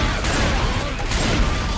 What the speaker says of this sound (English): What is up with you shooting me?